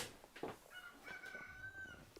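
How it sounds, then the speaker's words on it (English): A cockerel crows from down the garden through an open door, one drawn-out call that rises and holds, faint and distant, with a soft cluck before it. "Yes, Chan, yeah, I do have a cockerel down the garden"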